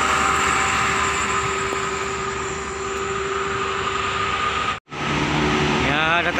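Bus passing on the Cipali toll road, a loud steady rush of tyres and engine that swells, briefly drops out, then returns with a rising whine as it goes by.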